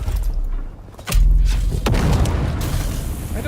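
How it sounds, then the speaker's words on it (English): A grenade detonates in the Dune Awakening video game with a loud, deep boom, then a second burst follows and a long rumbling roar fills the rest of the moment. "Grenade out."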